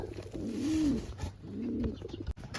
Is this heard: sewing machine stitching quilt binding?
no